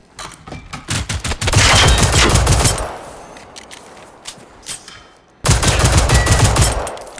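Loud bursts of automatic gunfire in the video game Generation Zero, dense rapid shots from about one to three seconds, a quieter gap with scattered single shots, then another sustained burst near the end.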